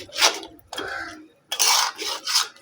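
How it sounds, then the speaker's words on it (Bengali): Mutton mixed with yogurt gets stirred in a pot over low heat, a spoon scraping and rasping against the metal in four short, uneven strokes separated by brief pauses. "দইটা দেওয়ার পরে এখন এটাকে ভালো করে এর সঙ্গে মিশিয়ে নিচ্ছি"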